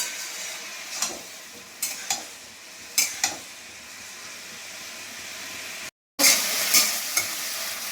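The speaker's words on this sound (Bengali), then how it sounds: "হলুদ নুন দিয়ে একটু ভালো করে নেড়ে নিই, তারপরে এটা রেখে দেবো, আপসে ভাজা ভাজা হয়ে যাবে" Vegetables with turmeric and salt frying in a pan, a steady sizzle broken by several sharp scrapes of a spatula being stirred through them, close and fairly quiet, with a brief dropout near the end.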